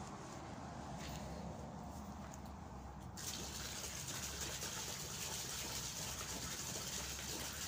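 Water pouring steadily into a chickens' water container, a continuous faint gushing that grows fuller and stronger partway through, with no talking.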